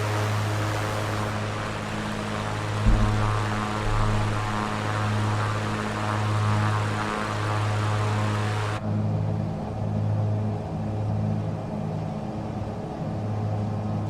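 Beech Baron twin-engine airplane in cruise, a steady loud engine drone with a strong low propeller hum filling the cabin, continuous and unchanging throughout.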